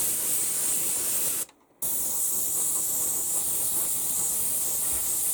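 An airbrush sprays Stynylrez metal primer as a base coat, driven by a nearby compressor; a steady, close, bright hiss runs throughout, broken once by a short silent gap where the trigger releases.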